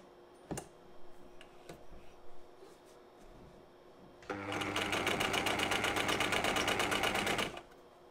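A Singer 319 sewing machine stitches a tension test on a scrap of fabric, its fast, even needle rhythm running close and loud for about three seconds after a few quiet clicks and handling sounds.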